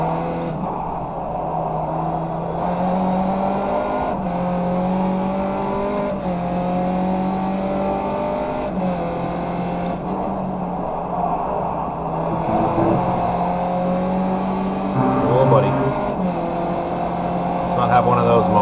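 Race car engine in the iRacing sim at Circuit Park Zandvoort, a loud, continuous whine rising and dropping through gear changes and corners, with someone talking over it.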